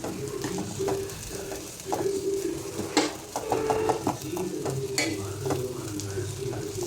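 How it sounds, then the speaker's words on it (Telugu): Cluster beans frying in a pan, a steady close sizzle broken by repeated scraping strokes and light clanks as a spoon stirs them. "మంచిగా వేగనివ్వండి ఇక్కడ కొంచెం ఉడకాలి కదా"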